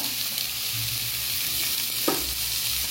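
Chopped capsicum fries with onion and tomato for thokku, a constant hiss of sizzling with occasional soft stirring scrapes, close and steady.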